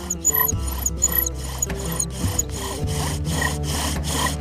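A wooden spindle drilled against a hearth board for friction fire, giving a steady rhythmic rasping rub with regular back-and-forth strokes, close and moderately loud, with no voices.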